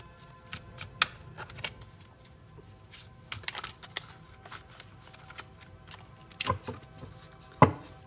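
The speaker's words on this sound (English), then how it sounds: "Do a couple more shuffles" Tarot cards are shuffled by hand close by, with soft riffling and scattered sharp taps and snaps of cards on a surface, with no talking.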